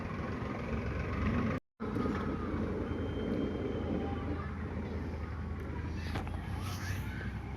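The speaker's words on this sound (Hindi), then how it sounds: "एक ट्रैक्टर ये है हमारे गांव का" A village tractor pulling a trolley along the road gives a loud, steady engine rumble and road noise close by. The rumble runs continuously, apart from a brief cut, with no clear talk.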